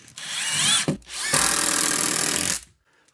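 A power drill driving screws runs close and loud in two bursts, with a short pause between them, before stopping.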